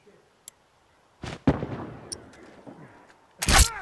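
Rifle shots ring out in The Last of Us, a faint crack followed by two sharp, loud reports, the last one booming close with a reverberant tail, a voice briefly heard between them.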